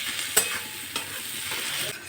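Onions frying with salt in a pan give a steady close sizzle, with a few sharp stirring scrapes and no voices.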